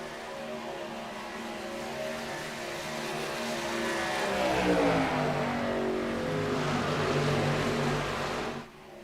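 Race cars roar past on a track, their engines swelling to a loud peak near the middle with a Doppler-like pitch sweep, then holding strong before cutting off sharply at the end.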